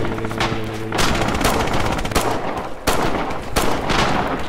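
Gunfire in the World War 2 video game Rising Storm, loud rapid automatic bursts and repeated shots that keep coming close together, with sharp cracks and echoing booms and no speech over them.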